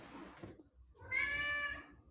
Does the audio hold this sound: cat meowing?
yes